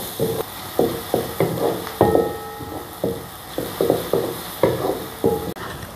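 Chopped onion being stirred in a hot pan while frying, a steady rhythm of close spatula scrapes and knocks, roughly two per second, over a soft sizzle with no talking.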